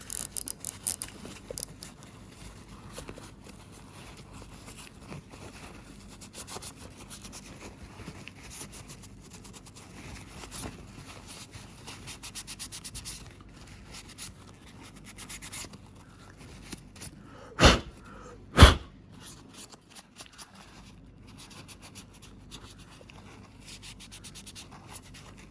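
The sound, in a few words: wiping old grease off fishing reel with paper kitchen towel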